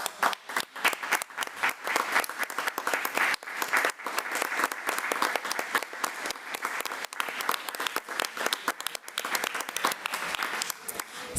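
A board meeting audience gives sustained, steady applause for the transportation department's school bus drivers, with dense clapping from many hands throughout.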